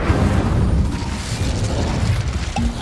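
A fire spell blasts in Hogwarts Legacy gameplay, a loud, sustained booming burst with crackling, rumbling texture that fills the moment alone, without talk.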